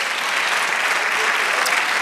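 A church congregation applauds at a worship service, a dense, steady wash of clapping that holds loud and even throughout with no break.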